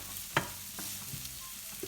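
Onions sizzle and crackle steadily in a hot pan, with a few sharp clinks and stirring scrapes close by.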